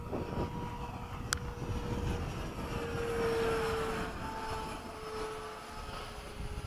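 A Freewing 90mm F-15 RC jet with a stock inrunner ducted fan flies past at some distance, its steady whine swelling in the middle and then easing off over faint wind.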